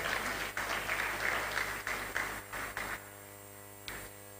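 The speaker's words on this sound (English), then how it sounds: "Please, another round of applause for the Honorable Attorney General." Audience applause at a law school inaugural dinner, soft clapping for several seconds over a steady electrical hum, then tapering off to a few scattered claps.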